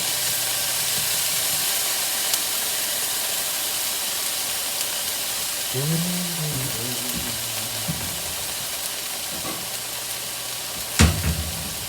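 Garlic warming in a hot pan for fajita pasta gives a steady, even sizzling hiss throughout, with a few faint squeaky tones midway and a single sharp clack near the end.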